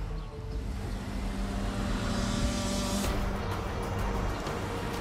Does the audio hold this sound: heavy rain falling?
no